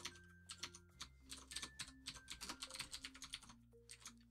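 Rapid typing on a computer keyboard while entering HTML code for a dropdown navigation menu, with irregular bursts of close, crisp key clicks and a few short pauses, no talking.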